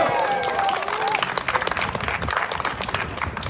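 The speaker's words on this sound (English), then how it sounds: "Can we give them a round of applause?" A crowd at an outdoor press conference and march for county term limits applauds, dense clapping with a few cheers and voices mixed in, steady and fairly close for a few seconds.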